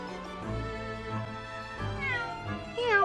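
The cat Wagahai in The Great Ace Attorney Chronicles 2 meows close and clear in a few drawn-out, rising and falling calls, with no other sound around.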